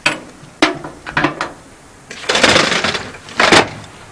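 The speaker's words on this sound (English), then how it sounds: "It's a wrench just for us to be able to make the connections on our couplings for hoses." A firefighter's spanner wrench connects fire hose couplings in loud, close metallic clanks and rattling scrapes, a few sharp knocks followed by longer grinding bursts, with no speech.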